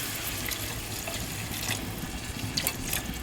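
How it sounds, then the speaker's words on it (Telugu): Half a litre of water pours steadily into a pan of egg curry, a continuous close splashing gush running throughout without pause. "ఒక 1/2 లీటర్ వాటర్ పోస్తున్నానండి."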